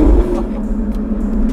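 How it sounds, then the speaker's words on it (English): Stage 3 Audi RS3, a 510 hp tuned car, runs with a steady low engine drone and light fluttery turbo chatter on top. The sound is close and fairly loud, with a heavier burst at the start and no talk. "those sounds, those little turbo flutters, and it's special"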